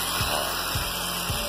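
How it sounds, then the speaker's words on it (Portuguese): A homemade polishing wheel made of jeans fabric works on the fork tubes of a Yamaha Virago 535 motorcycle, giving a loud, steady whirring drone with faint rhythmic pulses under the hum. "Aí eu mesmo fiz os rebolos com jeans"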